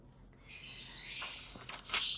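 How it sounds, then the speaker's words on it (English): Birds chirp and tweet in short, bright calls heard indoors at a modest level, a few bursts across a couple of seconds with no talk over them. "you might hear the birds in the background"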